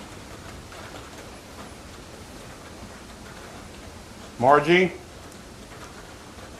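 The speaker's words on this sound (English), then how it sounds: "That is rain." Rain falls steadily on a building, a soft constant hiss that fills the whole clip, and a single voice calls out briefly partway through.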